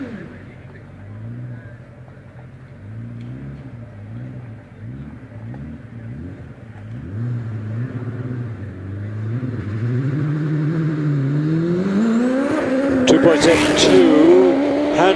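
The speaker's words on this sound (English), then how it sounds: "Alex Coles, car number 850 in the Force TA Mistral" A supercharged Force TA Mistral 1300 hillclimb race car accelerates through the gears at a hillclimb event, its engine note rising and dropping in repeated shifts before climbing to a loud high rev, under continuous commentary.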